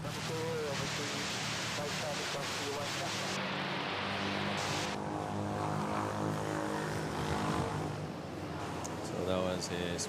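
A Cebu Pacific A320neo from Caticlan at Manila Airport gives off a steady engine drone with a shifting whine, while a voice talks over it throughout.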